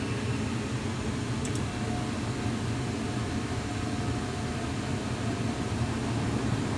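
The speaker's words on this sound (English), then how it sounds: "the 3-ton blower kicking on at low speed" A Lennox gas furnace's 3-ton blower running at low speed in heat mode gives a steady, even low rumble and broadband airflow hiss, constant and moderately quiet with no talking.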